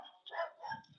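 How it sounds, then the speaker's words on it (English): Dogs bark a few times outdoors during a walk, short yips and woofs at moderate distance, with no talking over them. "Sorry, I'm walking the dogs."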